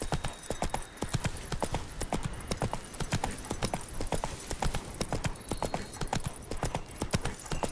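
Roach the horse from The Witcher 3: Wild Hunt trots steadily, her hooves clip-clopping in a brisk, even rhythm, close and clear over a soft outdoor game ambience.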